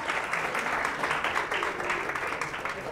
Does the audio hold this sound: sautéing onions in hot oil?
no